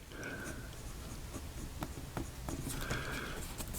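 A vintage Waterman's 55 fountain pen nib scratches across paper that isn't lying flat, making soft, close, intermittent strokes with faint taps.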